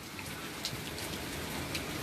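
Steady rain falls on a stormy night, a dense, even hiss of drops with a few brighter splashes, close and constant with no voices.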